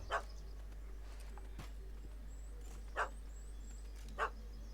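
Dog barking in The Witcher 3 video game, three short yelping barks spaced a few seconds apart, somewhat distant over a low steady hum.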